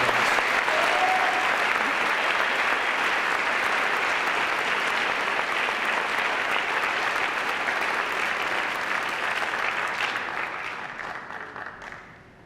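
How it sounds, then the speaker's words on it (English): A school senior awards ceremony audience applauds recipients with a dense, loud, sustained clapping that holds steady and then fades out near the end. "Please give them a round of applause."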